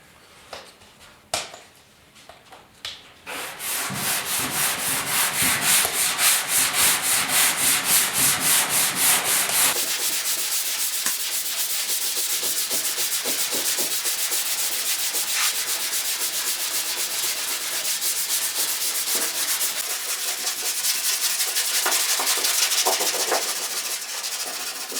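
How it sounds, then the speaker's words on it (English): Primer on the hood of a 1956 Ford pickup is sanded by hand with 150-grit paper after a few scattered knocks, giving a long, continuous, close-up scratchy hiss with rhythmic back-and-forth strokes. "it's just a matter of sanding this down with 150 grit and a couple more coats of primer"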